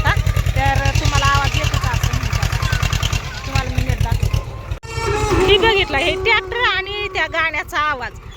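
A tractor engine runs in a farm field with a steady low chugging throb that continues throughout, while a person talks over it nearly the whole time.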